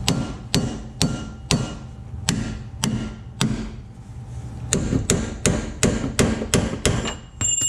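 Hammer blows on a chisel against the splines of a boat trailer axle during an axle replacement: about fifteen sharp, loud metallic strikes in a steady rhythm, close by, with no talking.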